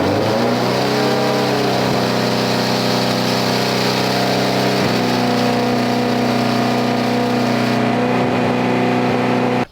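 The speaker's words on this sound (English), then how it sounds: "She fires up and revs to about 4K and just chills there." An all-wheel-drive Honda Civic Type R engine fires up and revs, then settles into a loud, steady high idle around 4,000 rpm that holds with a strong sustained drone before cutting off abruptly at the end.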